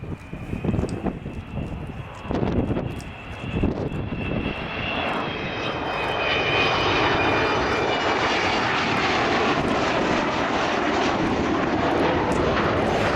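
An Avro Vulcan XH558 bomber passes with its wheels down at a 2015 air display, a deep rumbling engine roar that swells and holds loud, with some distant chatter early on.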